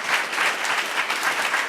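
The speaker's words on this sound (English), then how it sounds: "Let's give her a round of applause." An audience at a televised forum breaks into applause. The clapping is dense and steady, moderately loud, and continues for a couple of seconds without speech.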